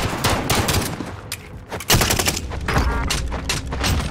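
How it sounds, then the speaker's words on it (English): Enemy soldiers in a shooter video game unleash rapid bursts of gunfire, sharp cracks and automatic volleys rattling in close succession, dense and loud for the whole stretch with only a short lull midway. "I'm taking fire."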